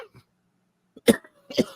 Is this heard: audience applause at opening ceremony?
no